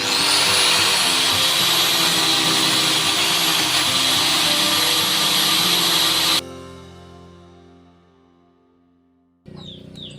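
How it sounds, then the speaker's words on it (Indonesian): A loud, high-pitched grinder whines steadily for several seconds against a car's spinning front brake disc, then cuts off and winds down to silence before a brief clatter starts up again. "kita putar rodanya, kemudian kita hidupkan gerendanya"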